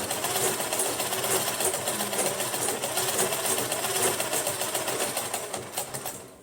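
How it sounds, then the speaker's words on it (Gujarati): A sewing machine runs steadily for several seconds, double-stitching a pair of trousers, loud and close with a dense mechanical whir that eases off slightly at the end. "આમાં ડબલ સિલાઈ કરી દઉં?"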